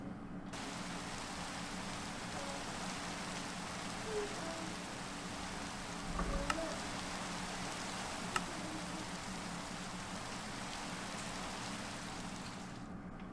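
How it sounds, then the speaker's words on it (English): Steady rain falls throughout, a dense even hiss of drops on a surface with no voices, a couple of brief sharper ticks rising above the wash midway. "Stupid rain."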